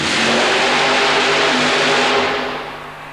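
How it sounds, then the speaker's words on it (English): A loud, roaring supercharged fuel-injected Ford engine in a Ford Thunderbird funny car at a mud race blasts at full power, broad and thunderous, then begins to fade slightly toward the end. "How about a supercharged fuel-injected Ford motor in a Ford Thunderbird funny car?"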